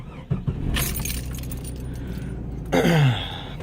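A 1995 Jeep Cherokee XJ: keys jingle in the cabin for a few seconds, then the engine cranks and catches with a short, rough surge near the end.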